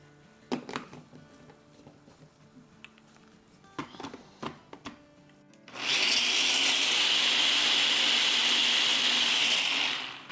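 An electric grinder whirs loud and steady for several seconds, blending green chilies and fresh coriander with salt and a little water into chutney, preceded by a few scattered clinks and knocks.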